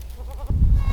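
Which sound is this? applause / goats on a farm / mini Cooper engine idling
goats on a farm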